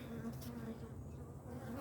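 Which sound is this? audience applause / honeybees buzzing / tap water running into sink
honeybees buzzing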